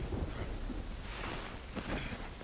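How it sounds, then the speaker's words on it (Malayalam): Steady gusting wind roars with rain hissing beneath it in the video game First Light 007, a continuous muffled stormy wash with no voices. "കാറ്റ് മഴയുണ്ടെന്ന് തോന്നുന്നു."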